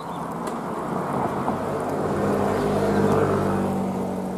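A motorcycle rolls in along a grassy fishing spot, its low engine rumble swelling gradually as it nears and staying steady without talk.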